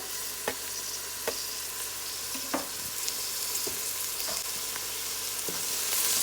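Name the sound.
hot pepper and green onion seasoning sizzling in pot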